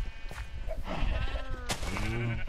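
Sheep bleating in Minecraft, a couple of close, wavering bleats with other game noise underneath and no talk.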